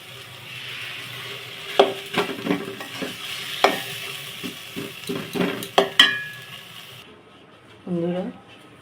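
Ground lentil paste is stirred and fried in oil in a pan with pumpkin, giving a steady sizzle broken by repeated close scrapes and clacks of the spoon against the pan, and a short voice near the end.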